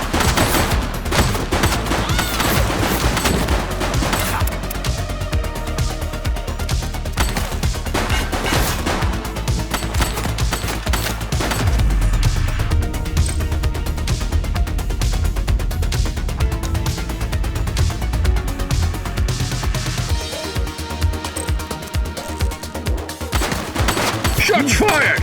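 Sustained heavy gunfire from the police game The Precinct: dense volleys of loud, close shots and occasional crashing impacts pile up almost continuously, easing only briefly near the end.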